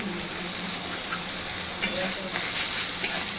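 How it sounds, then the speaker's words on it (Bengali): Garlic paste fries with onions in a pan, giving a steady, soft, close sizzling hiss with faint stirring scrapes while someone talks. "রসুন বাটা দিয়েও কিছুক্ষণ ভাজবো পেঁয়াজের সঙ্গে।"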